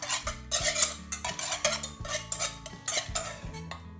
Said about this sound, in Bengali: প্রথমে আমরা কড়াইয়ের ভিতরে ডিম এবং চিনি একসাথে মিক্স করে নিব